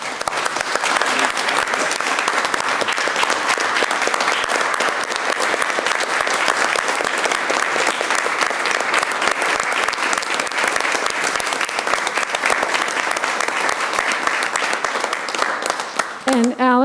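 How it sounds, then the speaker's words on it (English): Sustained applause from an audience at a school board meeting, a broad, even wash of many hands clapping for over fifteen seconds, with a voice briefly heard at the very end. "So I think they deserve a round of applause."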